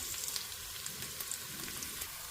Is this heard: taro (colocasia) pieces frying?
yes